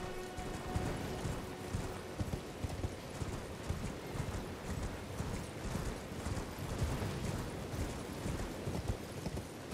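In Elden Ring, a horse's hooves clip-clop in a rapid, even galloping rhythm, sustained and close throughout with no pauses.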